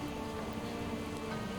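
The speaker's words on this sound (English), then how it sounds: "with the rain coming down this hard in the puddles" Heavy rain pours onto puddles and grass in Project Zomboid, a dense, continuous hiss of close drops with no pauses and no voices.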